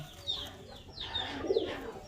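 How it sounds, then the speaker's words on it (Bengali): Racing pigeons in a loft give soft, low coos and a few faint chirps, quiet and close, with no other sounds around them. "আজকে আমার এইখানে নতুন কিছু কবুতর আনছি"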